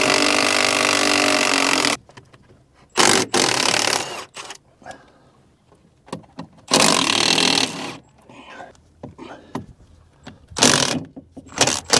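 A 9/16 wrench works loose the fan bolts on a Bobcat T750 skid steer: loud bursts of metallic ratcheting come in several separate runs with quiet gaps between them, close up and without talk.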